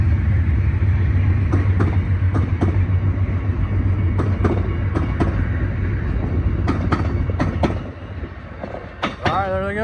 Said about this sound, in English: Got an Amtrak 50th anniversary heritage unit leading.